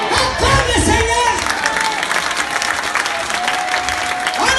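A large crusade crowd applauds and cheers continuously, a dense wash of clapping with scattered shouts and voices over a steady, loud roar.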